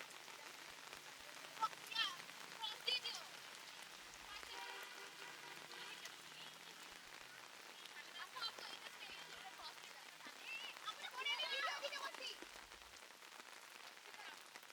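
Heavy rain falls steadily outdoors by a school wall during a student protest, a dense, even patter on surfaces heard from close by, with faint voices in the background.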